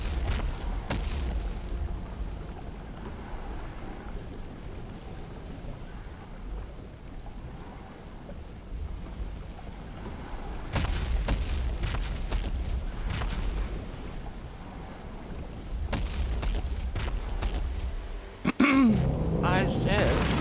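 An evil monster's earth-shaking footsteps in the Dungeons 2 video game land as deep, rumbling booms in slow, heavy waves, with a narrator's voice speaking over them.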